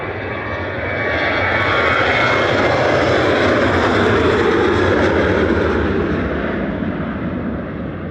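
An airliner departs Manchester Airport for Gothenburg with a loud, steady engine roar that holds broad and strong for several seconds and fades only slightly at the end.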